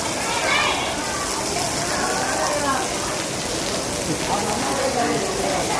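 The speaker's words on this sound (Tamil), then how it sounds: "சென்னையில் ஒரு மழைக்காலம் சூப்பராக இருக்குது" Rain falls during the Chennai monsoon season, a dense, steady hiss of drops on surfaces that holds loud and close throughout, with no talk.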